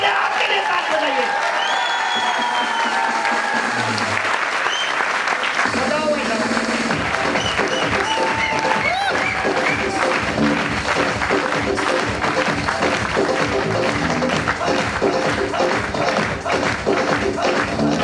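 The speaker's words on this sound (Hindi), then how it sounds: "आप अपने आप के लिए ताली बजाइए।" A seminar audience in Delhi applauds in a large hall, with dense, sustained clapping from many hands filling the room. A voice speaks over the start, then the clapping carries on loud and steady.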